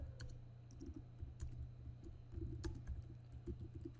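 Keys click on a computer keyboard as a file name is typed, quick soft taps in short uneven bursts, close and quiet.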